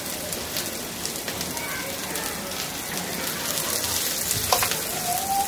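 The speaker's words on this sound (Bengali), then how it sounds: "আমি চুলার জালটা হাই হিটে রেখে ভাজতেছি" Sliced onion, garlic and green chillies frying on high heat, a dense, hissing sizzle like rain that swells slightly toward the end, close and fairly loud, with no voices.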